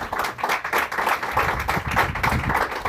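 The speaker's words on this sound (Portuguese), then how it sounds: "Pode aplaudir Nossa Senhora" Clapping for Our Lady during a Catholic talk, quick uneven bursts of hand claps from a modest group, close and moderately loud, with some sparse taps and no clear talking.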